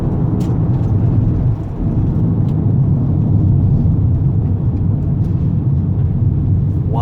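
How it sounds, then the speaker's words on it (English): A big truck rolls past with a loud, steady low rumble that briefly dips and then swells again, with no voices over it. "I had to let a big truck go."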